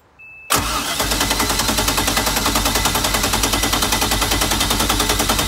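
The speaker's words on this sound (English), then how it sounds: "we're gonna just crank the engine over just for a couple seconds to get that cylinders all lubed" An Indmar Monsoon inboard ski-boat engine is cranked over by its starter, a loud, rapid, even chugging rhythm that kicks in abruptly after a click and continues steadily without firing up.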